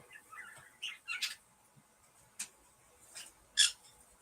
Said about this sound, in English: If you hear in the background, that's my bird Peaches.